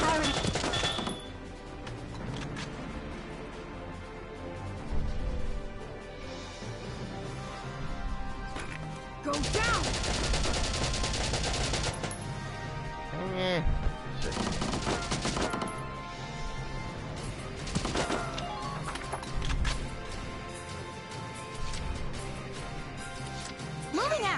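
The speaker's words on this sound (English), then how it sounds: "they're going to run into machine gun fire" Sustained machine gun fire and bursts of gunfire in the Valkyria Chronicles war game, dense and loud throughout, with soldiers and enemies charging into it and voices underneath.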